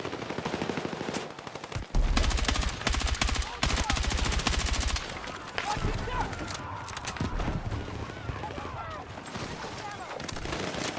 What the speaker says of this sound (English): They got a mortar? Mortars are a thing on this game?